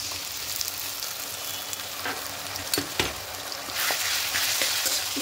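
Ginger-garlic and tomato paste frying in a pan for kadai chicken, a steady close sizzle with a few sharp clinks and scrapes of stirring, alone with no voices.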